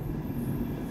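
A train rumbles across railway arches overhead, heard from beneath as a steady, dense low-frequency roar throughout with no talking.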